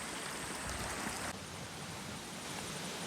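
Water rushes below Bhalkhet waterfall near Vyara in a constant, even hiss, nearby and unbroken with no voices.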